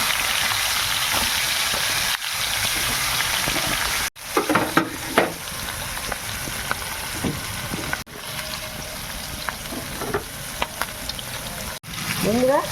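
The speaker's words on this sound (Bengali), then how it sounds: "এবার একটা একটা করে মাছ আমি তেলের মধ্যে দিয়ে দেবো।" Hilsa fish pieces laid one by one into hot oil in a pan, a loud steady sizzle that drops out briefly and returns, with splattering crackles and faint background voices.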